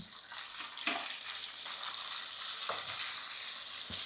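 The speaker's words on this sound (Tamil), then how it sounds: "தக்காளி ஓரளவுக்கு நல்லா வதக்கிக்கலாம்" Tomatoes and onions sauté in a pan for a radish chutney, a close, steady sizzle with occasional stirring scrapes and light clatter throughout.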